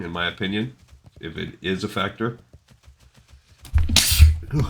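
A person sneezes loudly and explosively near the end, following a stretch of casual talk by a speaker.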